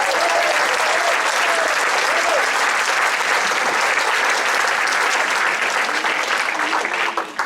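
Warm audience applause at a political debate as regional candidates come on stage, a dense continuous wave of clapping from a large crowd, loud and sustained, trailing off at the end.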